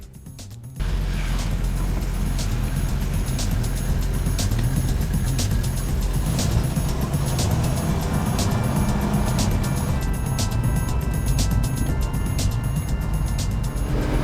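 A green 1974 Mercury Comet with T-tops driving, its engine giving a loud, continuous hum and rumble with mechanical rattling, heard close for the whole stretch.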